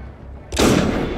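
A single loud gunshot in the video game Assassin's Creed Unity, a sudden sharp bang that follows a quiet stretch and leaves a lingering boom.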